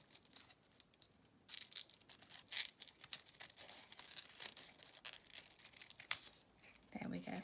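Scissors work around the edge of crepe paper while a petal is shaped for a paper rose, giving close, crisp crinkling and tearing rustles in uneven bursts.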